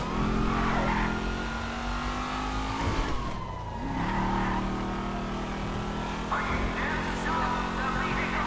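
Cars roar and accelerate through the streets of the video game GTA Online, with continuous engine drone, rising revs and brief tire squeals up close, nothing else over them.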